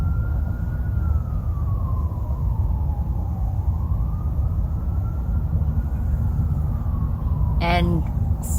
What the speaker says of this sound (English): sirens are blaring in the background